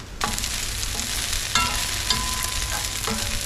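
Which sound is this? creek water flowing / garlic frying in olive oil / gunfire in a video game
garlic frying in olive oil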